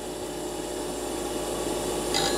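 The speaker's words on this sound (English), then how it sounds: "Now you know why I like to use that 16-inch disc sander." A 16-inch disc sander fitted with an 80 grit CBN wheel grinds steadily against wood, a continuous near abrasive rasping hum that holds even throughout and brightens slightly toward the end.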